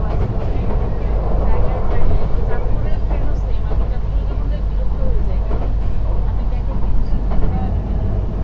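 The Suborno Express runs with a steady, loud low rumble and faint rhythmic clatter of the carriages, while people talk over the constant noise.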